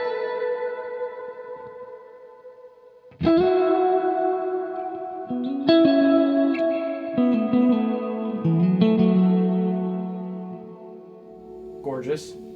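Electric guitar played through a reverb pedal on a cathedral-style basilica setting, chords and notes ringing into long washy tails that sustain and overlap, fairly loud and alone.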